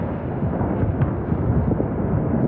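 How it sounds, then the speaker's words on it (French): Continuous deep, rumbling booms of distant explosions from a massive missile and drone attack on a capital city at night, a dense low roar with no clear gaps, steady and fairly loud throughout. "Une nuit, toute la capitale, assourdie par des explosions."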